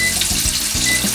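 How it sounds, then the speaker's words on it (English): Oil sizzles and bubbles steadily as pork ribs deep-fry, a close, continuous crackling hiss. "I usually fry the ribs for around 7 to 8 minutes"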